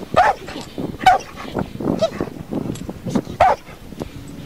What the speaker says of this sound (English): Boy, that was a good bark.